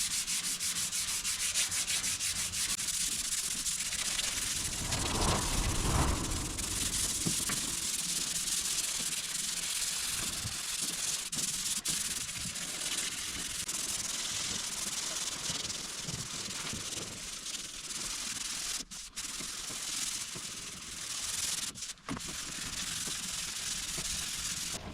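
Car primer is sanded by hand with a sanding block, producing a continuous raspy rubbing that sweeps back and forth, close and moderately loud, with a couple of brief pauses and no talking.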